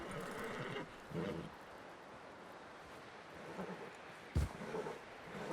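A horse in Red Dead Redemption 2 gives a low whinny, followed later by a brief sharp thump and snort, all fairly faint over quiet game ambience without speech.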